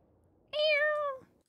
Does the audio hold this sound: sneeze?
no